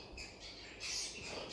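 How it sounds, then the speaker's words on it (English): Birds chirping and squawking indoors in short, faint bursts of high calls, a brief cluster with no talking. "Sorry, the birds in here are going crazy."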